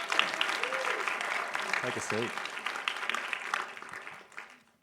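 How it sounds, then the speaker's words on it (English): Audience clapping at a Taronga accelerator program pitch event as teams are welcomed to the stage, a moderate continuous patter with a voice speaking briefly over it before the applause fades out. "It's a very well-deserved round of applause."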